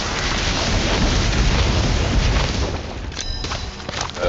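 Confringo, the explosion spell in the Harry Potter: Magic Awakened duel game, heard as a loud, sustained rumbling blast that fills the whole stretch and then thins into crackling debris near the end.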